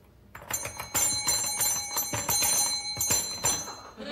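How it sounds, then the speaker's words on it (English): A bell is rung over and over in a fast, steady ringing with bright metallic tones that keep sounding for several seconds, close and loud with no voices. "Why did you ring that bell?"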